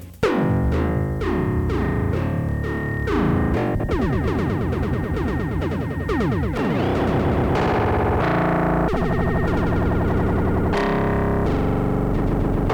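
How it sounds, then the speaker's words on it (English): Punchy synthesized drum hits from a Max for Live drum synth run through a randomized delay, echoes scattering and repeating unevenly in a dense, distorted, continuous pattern. "You can get very varied sounds using the randomization of the delay."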